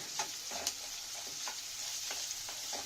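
Potato pieces fry in a pan with a constant close sizzle, while quiet scraping strokes from stirring come every half second or so.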